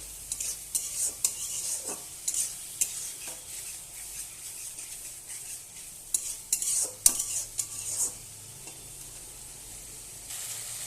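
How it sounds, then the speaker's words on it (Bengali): Prawns are stir-fried in a spice masala with soft sizzling under repeated scraping and clattering strokes of a spatula in the pan. The stirring is close and uneven, with no talk. "চিংড়ি মাছটা এবার আমি দিয়ে দিলাম মশলার মধ্যে, দিয়ে ভালোভাবে কষাবো।"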